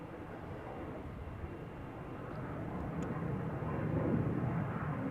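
A KLM Boeing 737 jet at Amsterdam Schiphol gives off a soft, distant engine rumble that slowly swells louder over several seconds.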